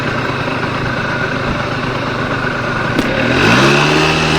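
A 1998 Honda Tacty 50 scooter's small engine revs continuously while climbing a hill, a steady buzzing drone that rises sharply in pitch near the end as it accelerates, loud and close with no talk.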